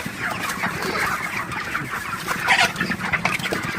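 A flock of broiler chickens clucks busily and continuously while being chased, a dense chorus of agitated clucks with some rustling movement throughout.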